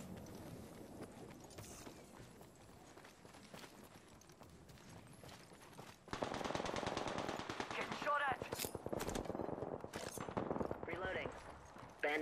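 Rapid automatic gunfire in Apex Legends crackles in dense bursts, steady at first and then louder and more intense from the midpoint on, with sharp individual shots cutting through, and no talking.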